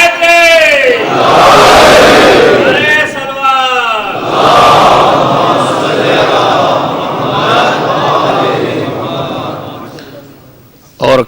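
A large crowd at a Muharram majlis shouts the Naara-e-Haidari religious slogan in loud, rhythmic collective bursts, call and response swelling and fading over several seconds, close and powerful.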